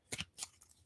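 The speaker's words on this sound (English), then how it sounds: "Last shuffle." Tarot cards being shuffled in a few quick riffling bursts, soft and close, with no voices.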